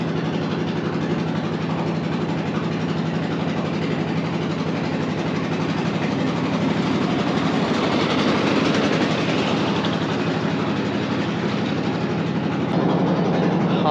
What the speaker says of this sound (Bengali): 40 মিনিট যাবত আমাদের বোট চলতেছে